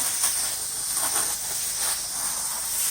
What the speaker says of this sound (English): Starting at the top, just gonna hose it off.